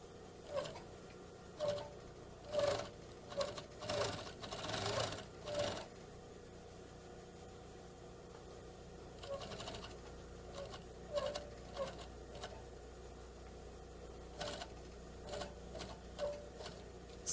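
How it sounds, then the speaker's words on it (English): A sewing machine stitches a neckline placket at a quarter-inch seam allowance, running in short bursts of rapid ticking with pauses between, moderately close and fairly quiet. "We'll stitch it using the desired amount of seam allowance"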